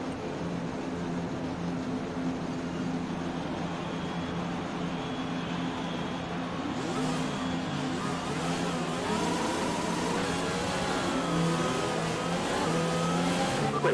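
A Formula 1 car in a racing video game revving at a race start: a sustained mid-pitched engine drone that climbs in pitch and intensity, with sweeping rising tones toward the end, moderately loud and steady.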